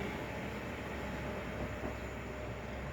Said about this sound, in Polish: Pojechał pociąg